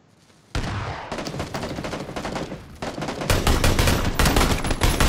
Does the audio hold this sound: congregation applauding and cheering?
no